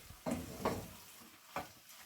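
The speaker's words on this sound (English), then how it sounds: "Just keep stirring." A spoon scrapes and stirs beef and mushroom pie filling seasoned with marjoram and black pepper in a pan, with three soft strokes over a faint sizzle.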